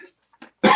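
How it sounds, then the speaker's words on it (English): A single harsh cough bursts out close by after a few faint breathy sounds, from someone who is a little under the weather. "I apologize for my cough or voice"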